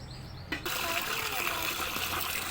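Tap water gushes steadily into a vessel holding frozen chicken meat, a close, continuous splashing stream that starts abruptly after a quiet moment and keeps running.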